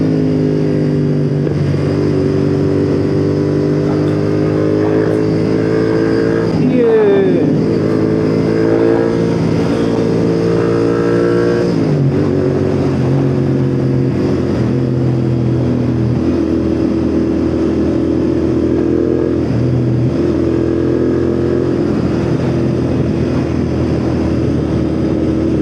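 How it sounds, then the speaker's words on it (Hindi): Royal Enfield motorcycle exhaust thumping steadily while riding on the road, a loud continuous engine drone with gear changes and shifting pitch throughout, no talking. "एग्जॉस्ट की साउंड भी आ ही रही होगी आपको"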